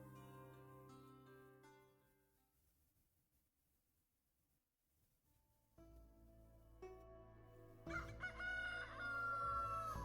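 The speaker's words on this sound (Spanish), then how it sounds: "Ella se había despertado cuando el primer gallo cantó." A rooster crows twice: a long, full cock-a-doodle-doo that fades into quiet, then a second loud, close crow rising near the end, with faint clucking around it.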